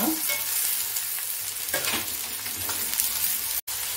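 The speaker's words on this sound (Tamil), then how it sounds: "வெங்காயம் நல்லா வதங்கிட்டு இருக்கு" Chopped onions sauté in a pan for Hyderabadi egg drop fry, a continuous close sizzle with soft stirring scrapes and a brief cut-out near the end.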